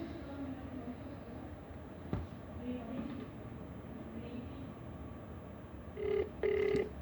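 A landline telephone with its backup battery switched off rings faintly indoors, two short bursts near the end over a low background hum, after quiet scattered talk.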